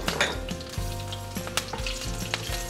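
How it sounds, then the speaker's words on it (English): Green chili and bay leaf hit hot oil in a pan, giving a loud, close, continuous sizzle with sharp crackling pops and some stirring clatter throughout. "Next to the leftover oil in the pan, I have added 1 more tablespoon of oil, and in goes green chili,"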